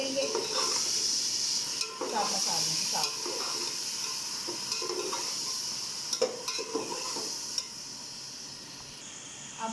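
Chana masala being stirred with a spoonful of pickle in a frying pan, a steady sizzle and hiss running throughout with scraping and light clinks of the utensil against the pan at irregular intervals.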